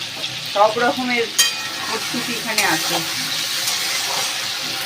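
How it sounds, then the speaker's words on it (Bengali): Prawns frying in a pan give a steady sizzle with occasional stirring scrapes, while a person talks over it at close range. "চিংড়ি মাছটা ভাজা করে নিই।"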